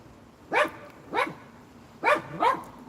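A tiny dog barks four times in sharp, yappy bursts, close and loud, with short pauses between the barks and no talking.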